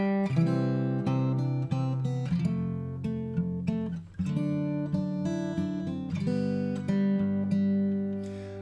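Fingerstyle acoustic guitar plays "We Wish You a Merry Christmas" with chords, melody notes and a walking bass line, bright and continuous, close and alone without talk.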